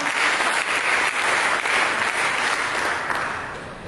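A church audience breaks into sustained applause with dense, even clapping that fills the space and fades slightly toward the end.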